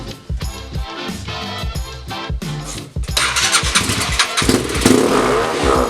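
A Honda CBR motorcycle, primed with a squirt of gasoline, turns over in uneven starter bursts, then fires and revs up into a loud, ragged, busy engine roar close by, with no one speaking.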